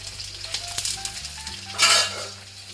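Shallots and curry leaves dropped into hot oil for a Kerala meal, a low sizzle that bursts into loud, close crackling spatter, with faint clinks of a utensil against the pan and no voices.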